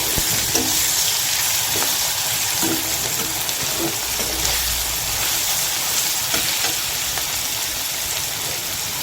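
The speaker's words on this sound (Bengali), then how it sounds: "রসুনটিকে হালকা একটু ফ্রাই করে নিয়েছি" Garlic frying lightly in oil for a spicy dried kachki fish dish, a steady broad hiss of sizzling with faint scattered pops and ticks, continuous and fairly close, with no talking.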